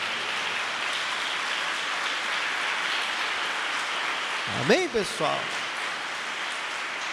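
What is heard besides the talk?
congregation applauding for Jesus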